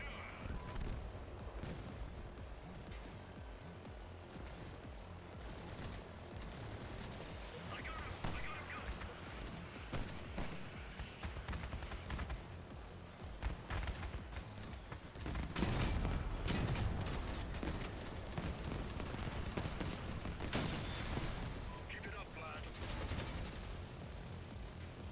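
Crossout vehicle combat with missile fire and explosions, a dense, continuous wash of booming blasts and rattling gunfire that swells in the second half, with a voice talking faintly in places.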